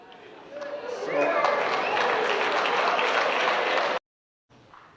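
Audience applause at a ceremony honouring Kenya University's Performing Arts and Film Association swells into a dense, steady roar of clapping for about three seconds, then cuts off abruptly before a faint tail resumes.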